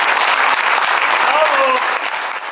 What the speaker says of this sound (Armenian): ովքեր իհարկե արժանացան հանդիսատեսի բարձր ծափերին